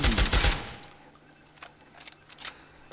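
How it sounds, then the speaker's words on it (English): Burst of machine gun fire in the Fallout 3 game, The Pitt, a dense rapid volley of loud shots in the first half-second, then sparse fainter clicks and metallic rattles trailing off. "Machine gun."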